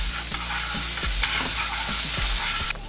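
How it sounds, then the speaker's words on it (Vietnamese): Onion and garlic stir-frying in a pan, a steady loud sizzle with scraping spatula strokes about every half second, continuous throughout, ending in a sudden brighter hiss near the end. "mình đã xào hành tây với tỏi thơm rồi á"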